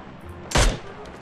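A single sharp, loud gunshot cracks out in PUBG, a short punchy report with a low thump and a brief tail against a quiet background.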